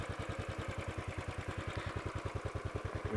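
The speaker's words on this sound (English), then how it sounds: "long stroke, still an overhead valve engine." A 2017 Royal Enfield 500 Classic's 499cc long-stroke overhead-valve single-cylinder engine idles close by, thumping in a steady, even beat of roughly eleven pulses per second throughout, with no talk.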